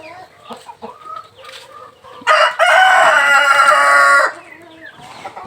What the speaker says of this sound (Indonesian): Ini adalah ayam yang kita besarkan untuk indukan.